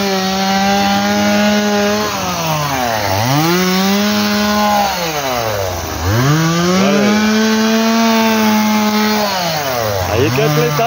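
A two-stroke chainsaw cuts grass, its engine loud and close, revving up and dropping back several times in rising and falling surges with no pause.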